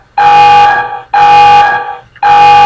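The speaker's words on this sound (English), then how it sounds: "the fire alarm is making a high-pitched beeping noise" A fire alarm sounds three loud, piercing, high-pitched tonal beeps, each lasting about a second with short gaps between, heard alone.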